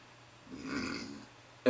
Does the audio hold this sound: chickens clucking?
no